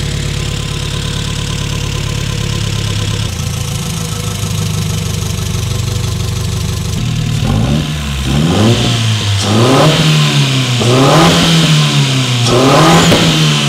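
A 400hp Lotus 7 engine idles roughly, then starts into a loud, close run with repeated sharp revs rising and falling in a regular pattern.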